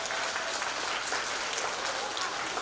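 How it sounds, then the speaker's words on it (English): Steady applause from a crowd at a school reading-challenge event fills the whole stretch, a dense even patter of many hands clapping at moderate loudness. "So give yourselves a round of applause."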